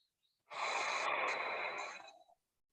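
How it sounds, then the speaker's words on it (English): One long, steady breath is heard up close during a yoga session, a soft airy rush of nearly two seconds that starts and ends in quiet. "Breathe in, breathe out."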